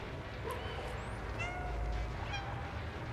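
A cat in the video game Stray meows a few times, close and clear, over a quiet background hum.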